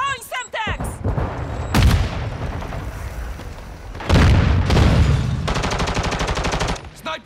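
Sharp bursts of gunfire and booms in a shooter video game, several loud clusters including a rapid machine-gun-like rattle, with players' voices talking between shots.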